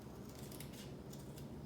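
Scissors snip through material while making a fabric July 4th banner, giving a few faint, soft cuts over a low steady background hum.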